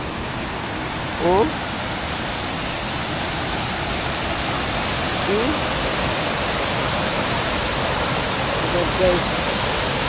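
Water flowing at night makes a loud, steady rushing wash that fills the whole clip, with brief voices speaking over it.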